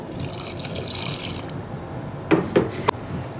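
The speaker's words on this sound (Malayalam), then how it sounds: "ഇതിലോട്ട് മിക്സിൻ്റെ ജാറിൽ കുറച്ച് വെള്ളം കൂടി ഒഴിക്കണം" Water from a mixer jar splashes into a cooking pot for a moment, followed by a few distinct drips and plops against a steady low background.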